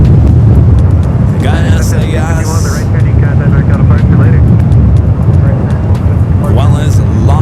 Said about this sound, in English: A380 Super heading over there to 28 right